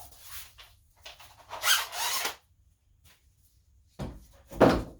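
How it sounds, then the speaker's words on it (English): Clamps being fitted onto a wooden workpiece in a shop, heard as a few close scraping, rubbing and knocking bursts separated by short pauses. "putting the clamps on"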